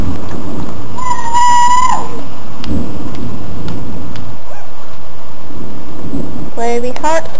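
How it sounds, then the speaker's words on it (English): Heavy rain pours down as a loud, dense, continuous roar close by, while voices talk over it with a few shrill outbursts. "It's raining harder."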